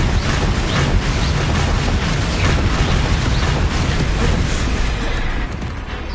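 Confringo spell explosions in Hogwarts Legacy, a dense, loud wash of fiery blasts and rumbling combat noise sustained throughout, easing slightly at the end.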